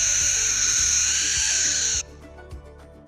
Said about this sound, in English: It's true, some owls do hoo, but I'm more of a screecher.